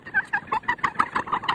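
Turkeys on a farm gobble in a steady run of rapid, throaty calls, close and fairly loud, with no talking over them.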